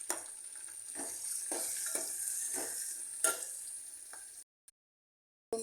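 Beans frying in hot oil with turmeric, stirred steadily with a spoon: a constant bright sizzle broken by regular scraping strokes roughly every second, close up, before the sound cuts off into silence.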